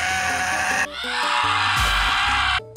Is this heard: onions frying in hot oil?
no